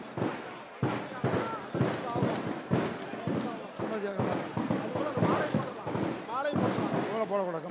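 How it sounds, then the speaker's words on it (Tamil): Firecrackers bursting over and over at an outdoor felicitation ceremony held by farmers: rapid, loud popping cracks in an unbroken run, with people talking and calling out throughout. "பட்டாசு நிறுத்த சொல்றா"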